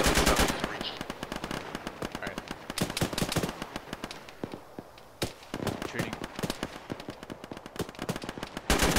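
Dense automatic gunfire in the military shooter Arma, rapid bursts crackling close and loud, pausing briefly midway before resuming, with voices talking over the shooting.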